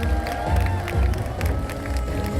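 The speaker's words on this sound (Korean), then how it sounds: "힘찬 박수로 맞이해 주시면 감사드리겠습니다." A crowd at a lawmaker's legislative report meeting cheers and claps as he enters, with loud overlapping shouts and clapping and a busy, echoing hall sound throughout.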